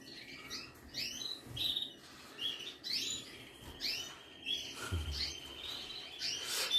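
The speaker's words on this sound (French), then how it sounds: "il va me rester tous les oiseaux qui sont là" Canaries and goldfinches chirping in an indoor breeding room, scattered bright tweets and short whistled calls repeating in quick bursts, faint and somewhat distant over a quiet background.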